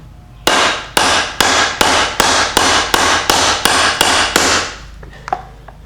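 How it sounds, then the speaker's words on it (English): Ten sharp, evenly spaced hammer blows ring out close and loud as a U-joint is pressed out of a vehicle driveshaft, followed by a couple of faint metallic clinks. "So I'm going to set this up, and then I'm going to give it a few whacks and see if this starts moving."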